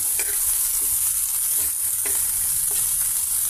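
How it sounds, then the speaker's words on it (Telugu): Brinjal pieces, curry leaves and raw dal fry in hot oil, a constant bright sizzle with a few soft spoon scrapes, close and steady. "ఇప్పుడు ఆయిల్తో కర్రీ లీవ్స్, పచ్చిపప్పు, బ్రింజిల్స్ అన్నీ ఫ్రై అవుతున్నాయండి."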